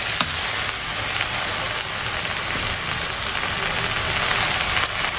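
Steady broadband sizzle of a ground spice paste frying in a hot pan, loud and close, continuous without pauses and with no talk over it.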